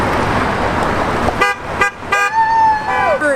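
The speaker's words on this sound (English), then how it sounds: "Thank God we got our first honk." Passing cars on a road sound their horns several times, short toots followed by one longer honk, close and loud over traffic rumble and scattered cheering voices.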